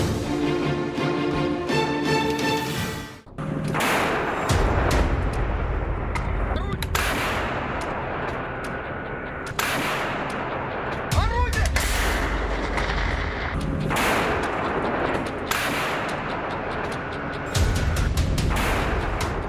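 Repeated heavy booms and bursts of artillery fire, some distant and some closer, with crackling gunfire between the blasts.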